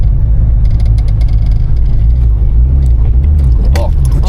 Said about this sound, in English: I'll put it in gear and actually accelerate.